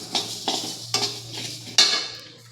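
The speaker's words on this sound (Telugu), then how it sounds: "నెక్స్ట్ ఇది ఇలా ఫ్రై అవుతూ ఉంటుందండి" A spoon stirs cumin, coriander seeds, mustard seeds and green chillies frying in a pan. Four distinct metallic scrapes and clinks sit over a low steady hum, close and fairly loud, with no talk.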